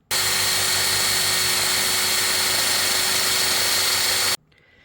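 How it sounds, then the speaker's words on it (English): A power drill whines steadily at high speed for about four seconds while drilling aluminium, then cuts off abruptly into near silence. "and then we drill a hole right here."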